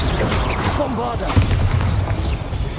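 A Bombarda blasting spell explodes in Hogwarts Legacy, a loud booming blast with dense rumbling debris in an ongoing magical fight, mixed with game voices.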